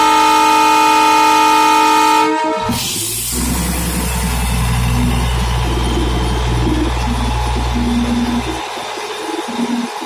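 A small engine of the Darjeeling Himalayan Railway sounds a loud, sustained horn tone, then settles into a steady, close rumbling engine drone that carries on for several seconds before cutting off near the end.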